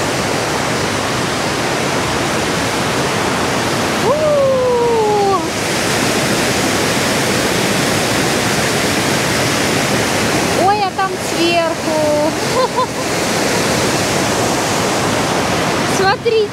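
The Todtnau waterfall in southern Germany roars as a constant, dense broadband rush, loud and unbroken throughout, with voices briefly heard over it now and then.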